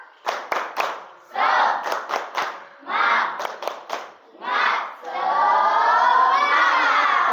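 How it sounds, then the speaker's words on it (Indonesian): A school class performs a rhythmic spirit clap chant: bursts of quick group claps alternate with shouted chanted phrases in a set pattern, ending in a long sustained collective cheer from many children. "Tepuk semangat."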